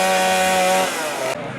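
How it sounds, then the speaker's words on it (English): Chainsaw carving wood for chainsaw art at a fair, a loud near buzzing whine that holds, drops in pitch and cuts off abruptly after about a second. "There's a guy doing chainsaw art right there."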